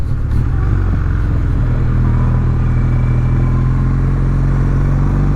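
A 2023 Kawasaki W800 motorcycle engine idles and burbles steadily, close and loud, with a low throbbing rumble throughout and no talking.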